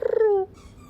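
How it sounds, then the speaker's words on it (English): A single short, clear tonal coo from a mourning dove or wood pigeon calling in the morning, falling in pitch and fading after about half a second, with quiet outdoor background after it. "In the morning, you hear these mourning doves, wood pigeons,"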